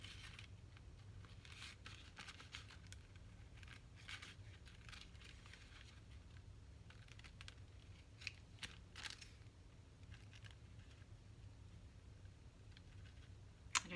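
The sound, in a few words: scissors cutting paper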